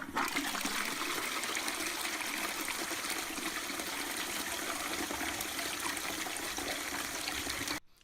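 A toilet flushes with a continuous rushing gush of water that holds steady for several seconds and then cuts off abruptly, close and alone.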